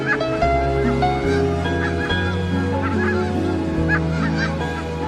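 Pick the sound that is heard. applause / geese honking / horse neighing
geese honking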